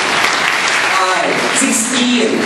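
Loud, dense audience applause for a candidate in a live sitcom contest fills the room as a continuous wash of clapping, with voices mixed in underneath.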